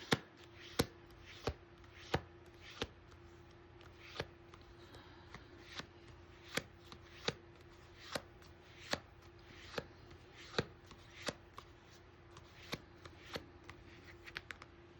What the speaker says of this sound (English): Okay, that's too many cards. It's gonna mix them up a little bit.